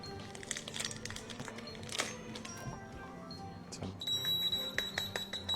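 Electronic beeps and tones from a detector ring out over steady outdoor rustling and handling noise, growing more frequent and piercing toward the end.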